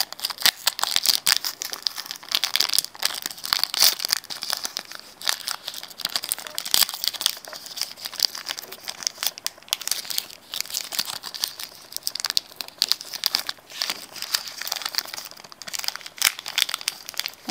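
Crinkly foil wrappers of Pokémon Team Rocket first-edition booster packs crumple and tear open, with continuous close crackling and rustling handling noise, no voices.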